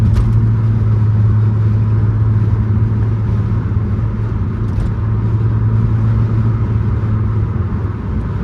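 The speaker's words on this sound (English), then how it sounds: "It's just traffic." Steady road traffic rumble heard from inside a 2004 Chrysler Crossfire on a daytime drive, a constant low engine and tyre drone with passing vehicles blending into a continuous loud hum, no voices.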